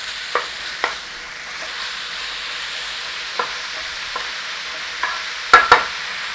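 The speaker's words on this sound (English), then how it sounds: "Now it is a browning on this, so mash it up, break it up, get it in there, and we want to cook on this pork" Pork mince browning in a hot pan for a pork and apple cottage pie, a steady sizzle under sharp, irregular scrapes and knocks as the meat is mashed and broken up, close by with no talking.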